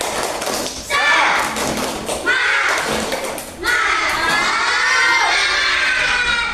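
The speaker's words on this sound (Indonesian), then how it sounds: "Kita tepuk semangat dulu." A classroom of children performs the tepuk semangat clapping chant, loud rhythmic claps and thumps mixed with children shouting the chant together in bursts.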